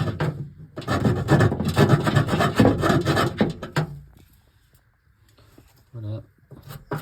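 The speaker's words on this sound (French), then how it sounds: "Et là, je vais poncer ça là. Je vais limer un peu ça là" Metal is filed and sanded by hand on a part of an Austin Mini, giving steady, loud scraping strokes for several seconds that then drop to faint rubbing and a brief scrape.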